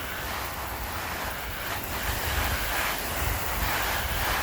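Steady, dense hiss of water spraying from a nozzle on its shower setting onto Sunbrella fabric, continuous and close, with no pauses.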